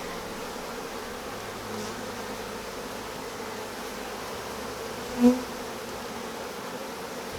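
Agitated honeybees drone in a steady, dense buzz during a hive frame inspection with smoke, the sound continuous and close throughout, with one brief knock near the end.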